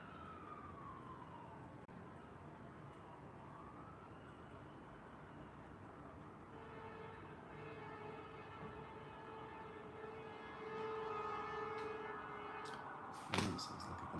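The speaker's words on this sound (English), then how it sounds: "Sounds like a bunch of fire trucks going down the road." Several fire truck sirens wail while passing along a road, faint and distant at first, then rising and holding steady tones, with a sharp nearby knock near the end.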